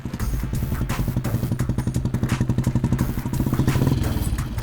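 A Bullet motorcycle being ridden gives a loud, steady run of rhythmic low thumps with some rattling clatter throughout, without any talk.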